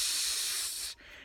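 A voice imitates the steady hiss of oxygen escaping from a tank mask, a bright sustained breathy rush held for nearly a second before cutting off, close and fairly strong.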